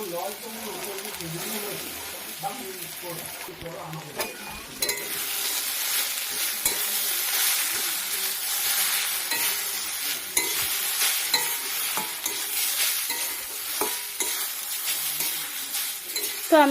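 Sweet potato for halwa fries in ghee with a broad, continuous sizzle, punctuated by frequent scraping stirs of a spatula against the pan, fairly close and loud throughout.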